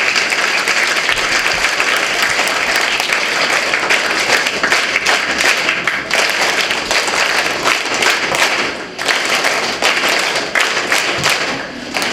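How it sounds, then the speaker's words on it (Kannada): School children applaud together at a school event, a dense, loud and sustained burst of clapping that fills the whole stretch with little pause, with a few thumps mixed in. "ಎಲ್ಲರೂ ಒಂದು ಚಪ್ಪಾಳೆ"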